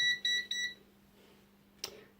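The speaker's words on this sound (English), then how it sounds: "that was interrupted a lot by multimeter beeping" Three quick electronic beeps sound in a row, high and pure, followed by a pause and a short faint click near the end.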